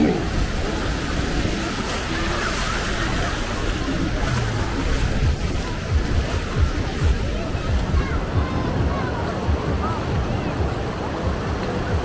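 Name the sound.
ocean waves washing up on beach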